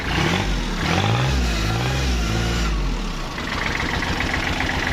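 A Kubota farm tractor with a new rear disc plough runs steadily up close, its engine rumbling low and even with a loud mid-range growl throughout, with no talk over it.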